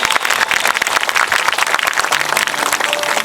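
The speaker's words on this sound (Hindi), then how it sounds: "एक बार ताली बजाएंगे यीशु के लिए।" A church congregation claps for Jesus at an open-ground worship service in Odisha, dense continuous applause filling the whole stretch, loud and close with no talk over it.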